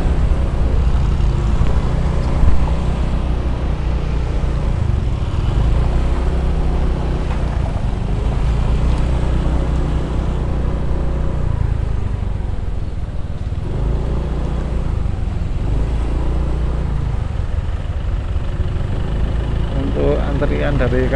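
Cars and motorcycles queued along a steep alternative mountain road between Pujon and Batu give a continuous low engine rumble and idling drone, with occasional revving swells and a person talking over it throughout.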